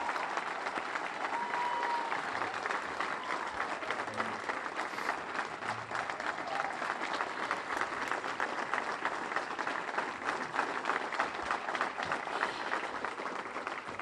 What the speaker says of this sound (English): Let's give a big round of applause one more time for Loren Gabel.